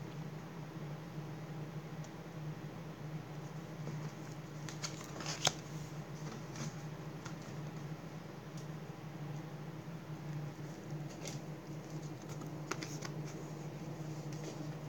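Tarot and oracle cards being shuffled close by, a soft continuous riffling under a steady background hum, with a few sharper card snaps standing out.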